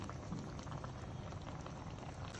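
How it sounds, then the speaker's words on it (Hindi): Salted Peshawari meat for namkeen gosht simmers in a pan with whole spices and water, giving a steady soft bubbling and sizzling hiss that is faint and continuous, with no voices. "तो गोश्त पैन में दोबारा पकना शुरू हो गया है।"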